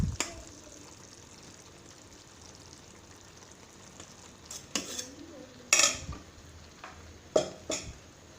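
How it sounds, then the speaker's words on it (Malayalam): A spoon stirs cooked rice into tomato rice masala in a pan, giving soft scraping under quiet background, then a few sharp metallic clinks and knocks against the pan in the latter half. "ഇപ്പം നമ്മുടെ ചോറ് മിക്സ് ചെയ്യാനുള്ള സമയമായി."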